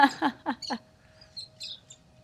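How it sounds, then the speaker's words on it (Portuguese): Small birds chirp outdoors, a few brief high tweets and calls in short bursts, faint in the background. "tô ouvindo os passarinhos aí no fundo"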